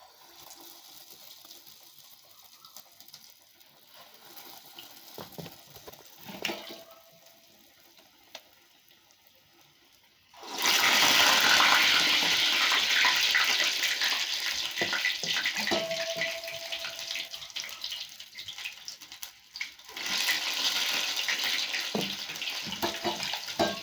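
Medu vada batter of urad dal, curry leaves and chilli dropped into hot oil, a steady loud sizzle of frying that swells suddenly midway and keeps crackling, with no talk.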